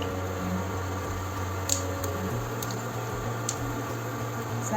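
Cumin seeds sizzle in hot oil in a pan, giving a steady soft crackling hiss with a few faint pops over a constant background hum.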